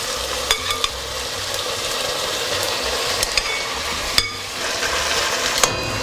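Marinated chicken pieces sizzling skin-side down in a pot, a steady close frying hiss with scattered crackles and pops and a few scraping clicks, with no talking.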